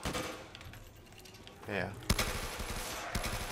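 Rapid automatic AK rifle fire in a Black Ops 3 custom zombies game, dense overlapping bursts that sit loud and close, with a short voice heard briefly during the shooting.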